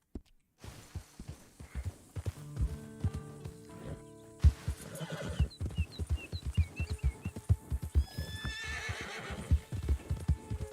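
A horse in the Red Dead Redemption 2 video game snorts and whinnies while its hooves clip-clop in a steady walking rhythm, close and clear, with a brief bird call and ambient game sounds in the background.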